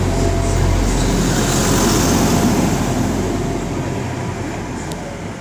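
A train at platform 3 of Shrewsbury station, a unit due out on the 14:05 to Swansea: a loud, steady rumble of engine and wheels that fades slightly toward the end, with no talk.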